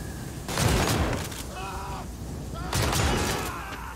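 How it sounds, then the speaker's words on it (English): Shotgun loaded with incendiary rounds fires in the Modern Warfare game: two heavy, roaring blasts with long crackling tails, separated by a short gap in which a voice briefly talks. "I gotta enjoy the incendiary rounds while I can"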